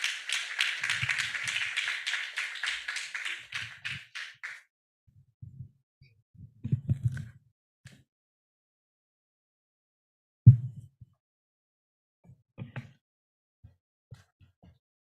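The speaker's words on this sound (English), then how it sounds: "Another round of applause, please." Applause from the audience at an entrepreneurship policy dialogue forum: a sustained burst of clapping for about four seconds, then a few faint, scattered claps and thumps in a quiet hall.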